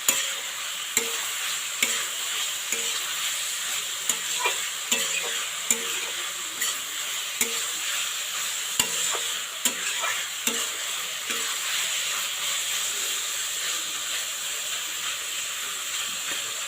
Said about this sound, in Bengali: তো আমি আর 2 থেকে 3 মিনিটের মতো ভাজবো, তারপর আমি তুলে নেব।